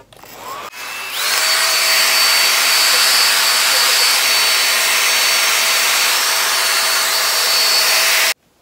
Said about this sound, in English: I'm gonna blow dry it so y'all can see it better.